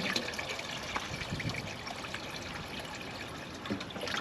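Water from a watering can poured into a chicken waterer, a steady trickling, splashing fill heard close and continuous for several seconds, with no talk.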